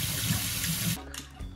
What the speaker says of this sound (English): Now we're going to wash all the salt off and prepare it for whatever spices you wish to have. Just wash it under normal water.